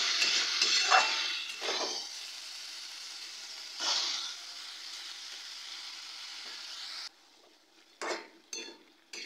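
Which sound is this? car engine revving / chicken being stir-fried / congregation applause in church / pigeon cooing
chicken being stir-fried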